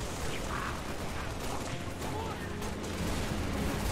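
Dense gunfire and explosive weapon blasts from the video game Halo: Reach form a continuous, harsh battle din, loud and steady with no pause.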